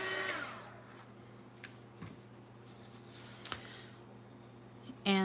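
Dryer blowing a steady, even whoosh over a saturated paper bag art piece, a continuous airflow hum with a few faint knocks and taps on top.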